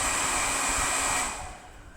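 A hair dryer blows with a steady, loud whooshing hum, then switches off and winds down to quiet.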